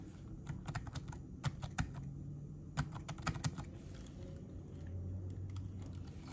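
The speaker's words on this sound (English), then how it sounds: "I'm going to try to press spacebar." Spacebar and keys pressed on a Q Braille XL braille keyboard, a scattered run of sharp, close clicks and taps over a low background hum.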